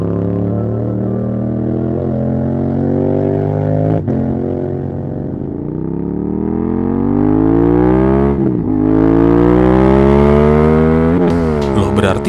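Exhaust note of a 270-degree parallel-twin motorcycle engine, a loud, steady harmonic drone that rises and falls in pitch through several rev sweeps, with a sharp drop near the middle before climbing again.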